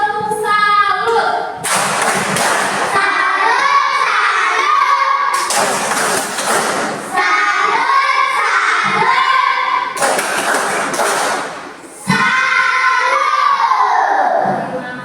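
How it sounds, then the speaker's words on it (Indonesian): Children at a Catholic school lesson do the tepuk salut clapping chant, loud bursts of group clapping and shouted chanting in a crowded classroom, repeating in several rounds. "Ayo kita kasih tepuk salut untuk kita yang semua hadir di sini."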